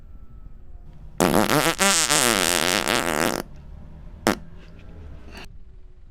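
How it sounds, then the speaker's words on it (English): A loud, drawn-out fart with a wavering, rippling pitch lasts about two seconds, followed by a short sharp burst and a fainter third puff, with no talking. "do hurry up and take the picture because I need to fart."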